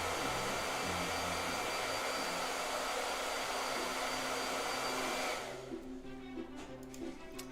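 A hair dryer blows on a watercolor painting with a loud, steady whooshing roar for about five seconds, then cuts off and leaves a quiet room with faint background noise.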